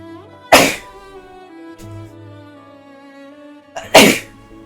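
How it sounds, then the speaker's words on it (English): Two sharp, loud human sneezes, one near the start and one near the end, with quiet tonal background sound in between. "Don't mind me sneezing"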